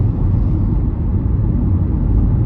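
Road noise inside a 2004 Honda CR-V LX driving over a rough, heavily trucked industrial road, a loud, steady low rumble with dense texture and no voices.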